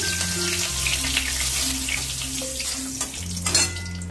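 Bay leaves and dried chillies fry in oil with a steady sizzle and crackle, a low hum underneath and a few faint clinks, close and continuous without speech.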